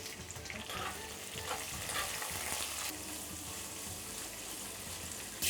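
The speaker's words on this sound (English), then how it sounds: "While the onions are getting sauteed" Sliced red onions with curry leaves and green chillies sauté in a hot pan, giving a continuous close sizzle and crackle with occasional stirring scrapes and no talking.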